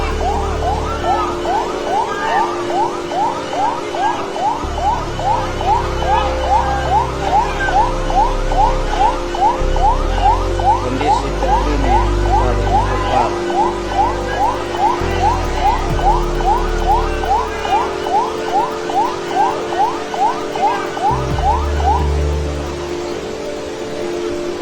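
An ambulance siren wails, cycling rapidly and steadily for over twenty seconds, loud and fairly near, over a low rumbling engine and traffic noise during a flood in Kupang.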